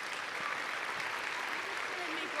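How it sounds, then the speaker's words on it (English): Audience applause at a wine industry awards ceremony, a steady, even wash of clapping that fills the whole stretch at moderate level, with faint voices mixed underneath. "I think they should get a round of applause as well as a hug later on"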